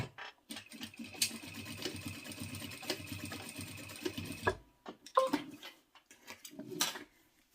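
A sewing machine backstitches elastic onto fabric for a teacher's notebook holder, running steadily for about four seconds, then stopping for a few short clicks and fabric handling.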